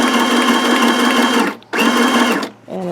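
A sewing machine stitches fabric baby book pages in loud, fast, close bursts, running steadily, briefly stopping, running again and then pausing near the end.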